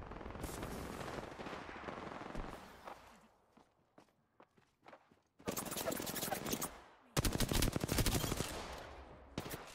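Gunfire in a fast-paced shooter video game: rapid bursts of automatic shots in two loud stretches, with footsteps and movement sounds between them and voices talking over it.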